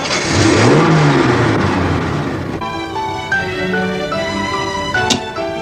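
A car engine revs up loudly and pulls away, the rising whine fading as it drives off, followed by quieter tonal background sounds.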